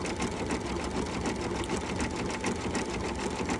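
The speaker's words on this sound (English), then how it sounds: "I'm not gonna leave the camera running the entire time this is stitching" An embroidery sewing machine stitches a mandala design, a steady close whirring and rapid needle chatter that runs without a break and fills the whole stretch, with no voices.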